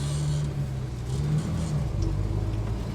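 A 1950 Studebaker R-Series truck engine at a swap meet, a low idling rumble with a steady hum as it begins to pull away, close and moderately loud, no speech.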